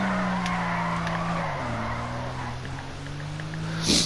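A car drifting with a steady tire squeal, a sustained squeal with a droning engine note that shifts in pitch partway through, followed by a brief louder burst at the end.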